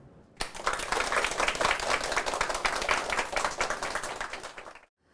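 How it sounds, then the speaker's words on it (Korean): Audience applause at a church talk-concert welcoming a deaconess to share her story, a burst of dense clapping starting abruptly, holding steady for several seconds, then stopping cleanly. "박수로 청해 듣겠습니다"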